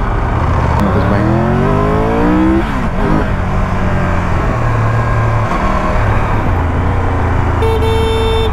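A Triumph Tiger 1200 motorcycle being ridden: a loud, steady engine drone with rising and falling pitch as it revs and shifts, mixed with wind and road noise, with a brief horn-like tone near the end.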